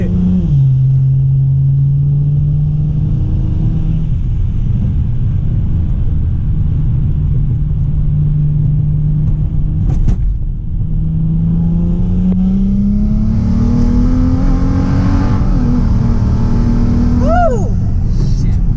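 A single-turbo BMW 335i running about 18 psi of boost pulls hard from inside the cabin, with a loud steady engine drone whose pitch climbs as it accelerates and a rising whistle late in the pull.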